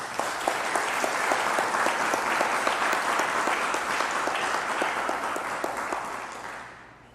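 Sustained applause from a church congregation during a sermon, with many hands clapping in a full, even wash that fades out at the end.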